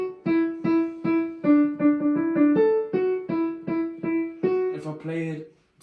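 A bright, tonal lead melody for a song plays as a steady run of short, evenly paced notes that rise and fall. It sounds close and clear with no voices.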